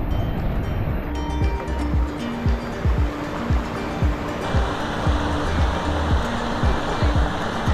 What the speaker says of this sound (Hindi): ये ट्रैक शुरू करने से पहले हमें ये पानी का झरना पार करना होता है। अब हमें ये नाला पार करना है।